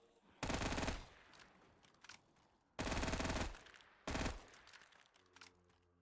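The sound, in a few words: SMG gunfire in Black Ops 3 custom zombies video game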